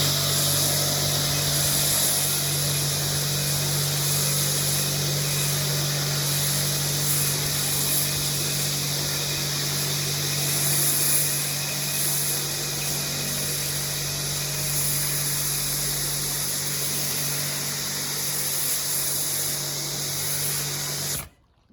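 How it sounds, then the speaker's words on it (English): A steady, loud hissing spray of snow foam onto a Renault Wind two-seater car, with a constant motor hum underneath, runs unbroken for about twenty seconds, then cuts off abruptly. "I'll try and film application of the snow foam one-handed."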